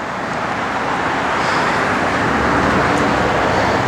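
A 1967 Ford Mustang with a 289 roller engine and Edelbrock parts runs, giving a loud, steady broadband roar with a constant low rumble underneath. It holds without a break and there is no talk.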